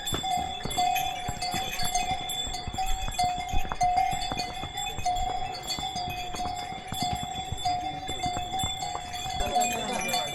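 Horses clip-clop steadily along a mountain trail to Kedarnath, hooves striking in an irregular walking rhythm amid jingling bells, with people talking nearby.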